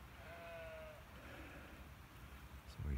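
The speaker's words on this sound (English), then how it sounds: "And there's all the sheep that were disturbed by me walking" Sheep bleat in a rural field after being disturbed by a walker, with one clear drawn-out bleat early on over low wind rumble and a faint further call at the end.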